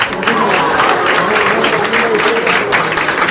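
Loud audience clapping at a book launch, a dense wash of hands across the whole stretch with voices mixed in underneath.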